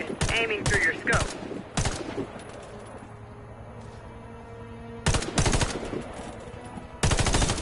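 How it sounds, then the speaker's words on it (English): Gunfire in the Warface shooter game during target practice through a scope: loud bursts of rapid shots in clusters, separated by quieter stretches of low background hum. "Hit the targets aiming through your scope."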